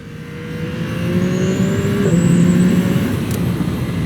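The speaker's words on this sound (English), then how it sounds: "Typical for an inline triple, but with a nice bassy note" A 2025 Yamaha R9 inline-triple motorcycle engine revs up steadily, loud and close, with a deep bassy drone and a raspy edge as the throttle opens.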